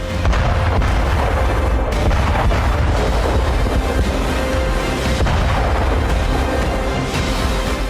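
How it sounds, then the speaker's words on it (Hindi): A B-1B Lancer bomber flying over Guam produces a loud, continuous, deep roar that holds steady throughout, with no voices. "गुआम के आसमान के ऊपर उड़ रहे ये बमवर्षक चीन को संकेत दे रहे हैं"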